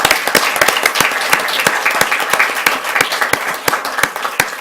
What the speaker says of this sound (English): Let's give him a round of applause for this.